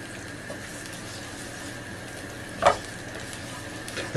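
Onion and garlic sizzle in a pan, a soft steady frying crackle with a brief stir or scrape midway and another at the end, no voices.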